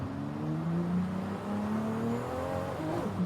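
Toyota Supra engine revving while driving, a steady, moderately loud drone with rising and falling pitch sweeps as the throttle changes, heard from inside or close by with no talk.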